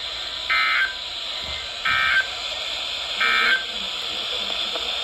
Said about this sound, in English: The NOAA Weather Radio Warning Alarm System.